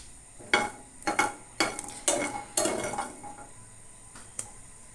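Sun-dried jackfruit seeds are fried in a pan, and a spoon stirs them in a string of sharp metallic scrapes and clatters. Each burst stands out over a faint, low sizzle, with no talking.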